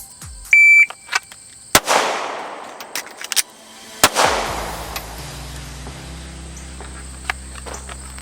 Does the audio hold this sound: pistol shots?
yes